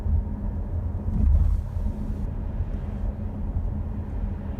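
Low road rumble and engine drone from a 2018 Volvo V90 D4 R-Design automatic, heard from inside as it accelerates while driving, swelling briefly before settling into a steady hum, with no talking.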